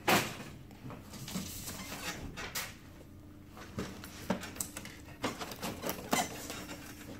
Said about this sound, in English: pull the tray out